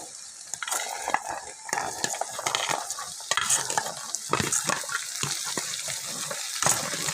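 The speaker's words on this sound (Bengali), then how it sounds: "এখন আমি এর উপর দিয়ে দেবো মটরগুলোকে।" Peas dropped over fried potatoes in a hot pan, bursts of crackling sizzle and clattering spoon strokes near the mic, irregular and busy, with no speech.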